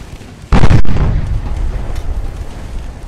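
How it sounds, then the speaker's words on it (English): A 5-inch shell striking a ship in a naval warship battle game: a single sharp, loud explosive boom that bursts suddenly, then trails off into a rumbling decay under ongoing background ambience. "That looked like a 5-inch hit."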